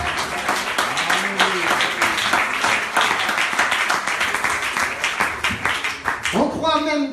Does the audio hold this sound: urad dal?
no